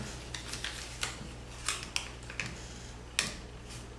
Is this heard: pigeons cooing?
no